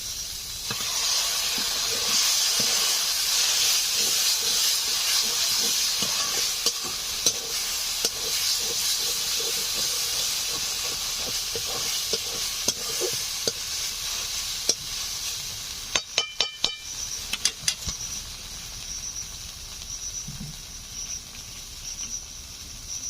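Rohu fish frying in a pan as a watered poppy seed paste is added, a steady hissing sizzle with scattered stirring clicks, then a burst of sharp clatters and a softer bubbling simmer, no voices.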